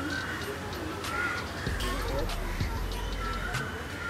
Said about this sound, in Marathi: इकडे पक्षी आहेत.